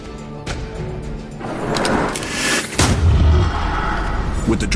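Gunfire in the Eternal card video game strikes a dragon: a burst of loud, booming shots and heavy impacts thunders over a busy game soundtrack, with rumbling low hits building toward the end.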